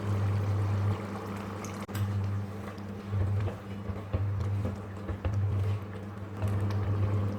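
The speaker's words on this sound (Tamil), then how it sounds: "இப்போ புளி சேர்த்து கொதிக்க விடலாம்." Tamarind water is poured into a simmering mutton offal gravy, a soft splashing trickle over a steady low hum from the stove.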